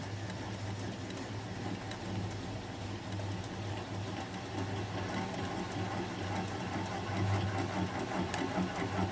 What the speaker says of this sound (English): I'm going to apply the bevel of the gouge against the bottom of the bowl